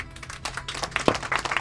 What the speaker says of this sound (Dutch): Dames en heren, mag ik een warm applaus.